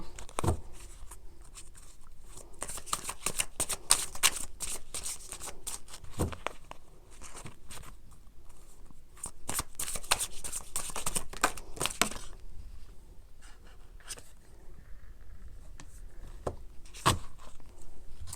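Tarot or oracle cards shuffled by hand during a card-reading session, giving a run of crisp riffling and flicking bursts with brief pauses, close and fairly quiet, with no talking.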